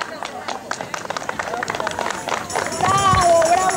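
An audience at a multicultural church festival applauds a couples dance group with a steady patter of clapping and crowd murmur. Someone speaks over it on a microphone, and the clapping grows denser toward the end.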